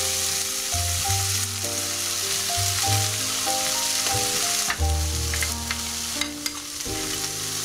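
Vegetable keema with capsicum cooked in milk, sizzling in a pan while being stirred, with a steady close fry and irregular scraping strokes, no talk.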